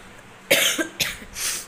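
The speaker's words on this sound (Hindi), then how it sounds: "कहीं कहीं खांसी भी आ जा रही है मुझे" A person coughs close up, three harsh bursts in quick succession after a short quiet pause.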